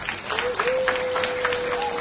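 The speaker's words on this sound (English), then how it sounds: "so please give the men a big round of applause." An audience gives a round of applause at a primary school welcome event, clapping steadily at a moderate distance for a couple of seconds, with a faint sustained tone running beneath.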